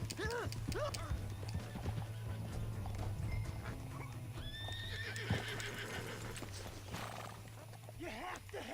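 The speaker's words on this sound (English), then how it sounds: "This horse is slow as hell." A horse in the Red Dead Redemption 2 video game, with hooves clip-clopping and a neigh or whinny over a continuous game soundscape and a faint dog bark; a voice talks at moments.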